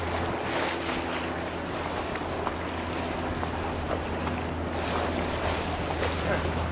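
Wind buffets a cruise ship deck in Swanson Channel off Pender Island in the Pacific Northwest, a constant rough rush over a low hum and wash of water, loud and steady throughout.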